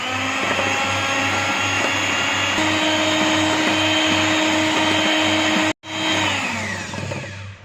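An electric mixer beating icing sugar into chocolate fudge cake batter, giving a loud, steady motorized whir with a pulsing hum, a brief cutout, then a restart that fades off.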